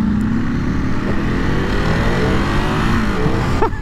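A 2023 Ducati Monster SP motorcycle engine revs loudly and close on a street ride, pitch climbing and falling through gear changes, with sharp throttle blips near the end.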